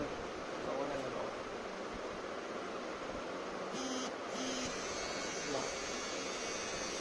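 A white Philips BT3101/15 beard trimmer runs close by with a steady, fairly loud electric buzz and whir that holds unbroken for about seven seconds.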